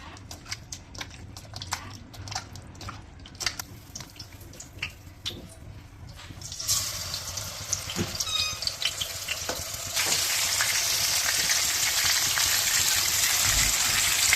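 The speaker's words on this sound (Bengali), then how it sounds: "লবণ হলুদ দিয়ে আমি মাছটা ভেজে নেব।" Rui fish pieces coated in salt and turmeric frying in hot oil: a close, steady crackling sizzle that swells louder and denser partway through, with scattered pops and a few clatters.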